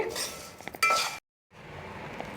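A spoon clinks against a bowl while black salt is sprinkled into a crunchy poha and dal snack mix, giving a few sharp metallic taps, a brief silent gap, then soft rustling of the dry mix.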